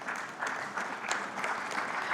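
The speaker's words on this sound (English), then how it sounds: "Big round of applause, please." Applause fills a conference hall at an economic forum as an executive is introduced, dense and steady clapping at moderate level with no voices over it.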